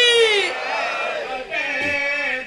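At a majlis gathering, a crowd chants the slogan Naara-e-Haidri with raised hands, a loud, sustained chorus of many voices in two drawn-out surges.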